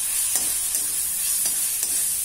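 Onions fry in a pan with a steady bright hiss while a spatula stirs them in a few soft scraping strokes, close and with no talking.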